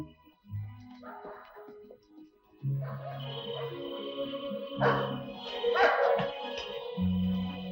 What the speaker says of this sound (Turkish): Köpeğe bir şeyler oldu. Niçin havlıyor acaba?